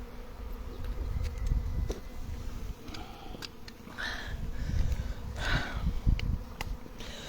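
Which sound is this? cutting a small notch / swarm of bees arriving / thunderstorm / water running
swarm of bees arriving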